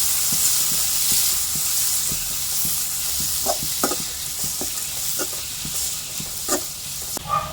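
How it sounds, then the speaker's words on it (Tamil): Onions sizzle and fry steadily in a hot pan for paneer butter masala, with repeated scraping and stirring clicks from a utensil throughout. "அதை வெங்காயத்தை போட்டுக்கலாம். நல்லா வதங்கட்டும்."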